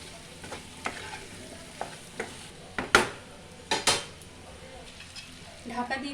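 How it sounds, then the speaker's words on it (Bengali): Taro, shrimp and vegetables frying in a pan are stirred with a utensil, giving a steady sizzle broken by scattered scrapes and knocks against the metal, several of them sharp and fairly loud, with no talking. "এবার আমি পুরো জিনিসটাকে ভালোভাবে নেড়ে নিয়ে ঢাকা দিয়ে"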